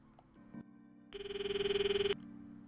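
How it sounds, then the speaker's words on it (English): An incoming call ringing on a phone in the visual novel Steins;Gate 0, a bright electronic ringtone that pulses rapidly for about a second after a few soft menu sounds, with no speech. "Here you want to answer the phone call,"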